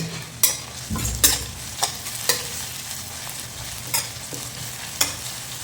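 Green chillies sautéing in a little sunflower oil for egg gravy, with a spatula striking and scraping the pan in irregular close strokes over a soft sizzle, no voices.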